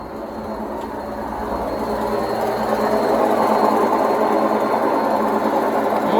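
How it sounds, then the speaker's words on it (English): An Indesit WIDXL12 washing machine runs its motor in a steady, continuous mechanical hum with a faint rhythmic churn, gradually growing slightly louder, close and alone with no talking. "The motors definitely work."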